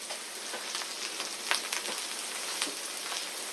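Eggplant and garlic frying slowly in a pan, a soft continuous crackling sizzle with scattered pops, close and fairly quiet, no voices.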